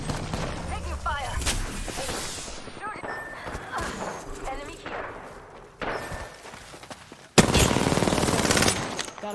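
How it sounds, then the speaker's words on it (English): Rapid automatic gunfire and bursts of shots in an Apex Legends battle royale match, loud and close, with a player's voice talking over parts of the action. "Taking fire."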